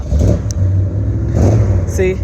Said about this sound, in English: There's a car starting up.